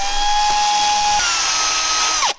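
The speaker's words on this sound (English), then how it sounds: "Just cleaning off paint with a drill." A power drill whines at a steady high pitch while stripping paint off metal, loud and close, with a slight shift in tone midway before it spins down and stops at the end.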